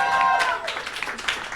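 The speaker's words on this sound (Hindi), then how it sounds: "जोरदार तालियां बजानी शुरू करें।" A short burst of audience clapping at a live comedy crowdwork show as a poet is called to the stage, a brisk patter of many hands fading after a moment.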